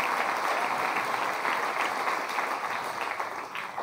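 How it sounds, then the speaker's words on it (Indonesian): A revival meeting congregation in Telupid, Sabah claps loudly and steadily, a dense wash of applause that carries on evenly for a few seconds and eases slightly toward the end. "Tepuk tangan kuat-kuat."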